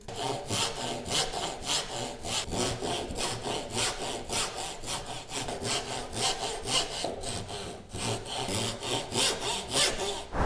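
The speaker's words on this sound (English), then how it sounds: "then we're going to cut back to these lines with a saw" A hand saw cuts wooden dovetail joints for a book stand, with steady rhythmic back-and-forth strokes rasping through the wood, close and loud, about a couple of strokes per second for the whole stretch.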